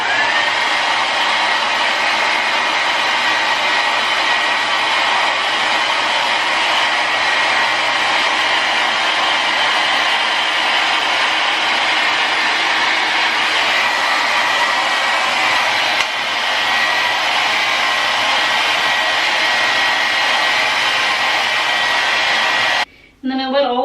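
A hair dryer blows steadily and loudly at close range while hair is dried, a constant airy whoosh lasting over twenty seconds before it clicks off near the end.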